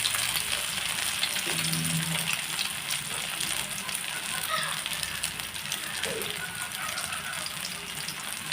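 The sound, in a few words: vanjaram (kingfish) fish frying in oil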